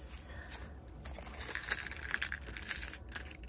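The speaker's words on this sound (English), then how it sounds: "for the main compartment I have my car keys" Car keys jangle and clink close by in short metallic bursts that grow busier toward the end, under a quiet background hum.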